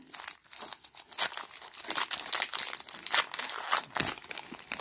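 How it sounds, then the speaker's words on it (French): A Pokémon booster pack is torn open, its foil crinkling and crunching in a steady stream of close, sharp tearing sounds with no voices. "Et on va s'ouvrir les boosters."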